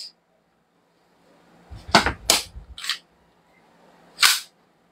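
A gas airsoft pistol whose slide fails to lock open and that is low on gas fires a quick cluster of three sharp cracks, then a lone final shot after a short pause. The shots are close and loud against quiet surroundings.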